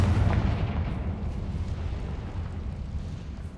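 A fiery explosion spell in a wizarding video game erupts as a loud, sustained rumbling blast that opens strongly and slowly decays over a few seconds, with no talk over it.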